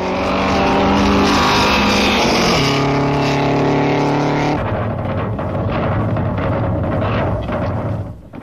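Vintage race cars, including a blue French car battling American rivals, roar past loudly with a sustained engine drone whose pitch drops as one passes, followed by continuing rough motor noise of the racing field.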